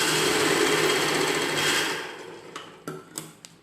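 A sewing machine stitches a dress seam, a dense steady whir for about two seconds that then thins into a few short separate clicks and taps as the stitching stops.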